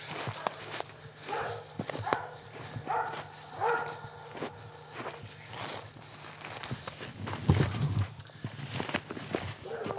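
Hunting dogs bark after a mountain lion hunt in New Mexico's outdoors, sounding in short, scattered bursts over rustling movement and footsteps, moderately close.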